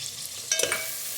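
Ginger and garlic fry in a pan with a short, steady sizzle and a brief stirring scrape in the middle.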